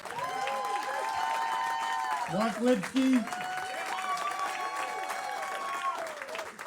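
A comedy club audience applauds the comedians at the end of a show: steady, full clapping throughout, with a voice speaking briefly over it.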